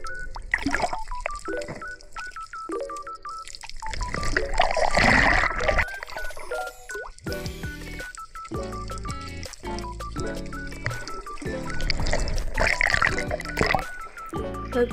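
Someone swims in lake water with a handheld camera, producing close splashing, trickling and sloshing sounds with bursts of louder churning, mixed with bright tonal electronic beeps.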